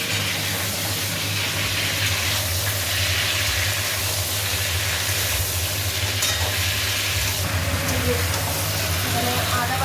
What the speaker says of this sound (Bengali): এখানে আলু আর ভাজা হচ্ছে